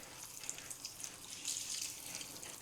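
Meat is rinsed under running tap water for a Nigerian egusi soup, with a steady faucet stream and soft splashing as it hits the meat. The sound is fairly quiet and close, with no voices.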